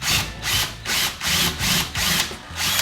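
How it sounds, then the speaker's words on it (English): A power drill pre-drills through sheetrock into a wall stud in a garage, whining in about six short, even bursts separated by brief pauses, loud and close with no talk. "do a pre-drill in the stud so I can thread in the next ones"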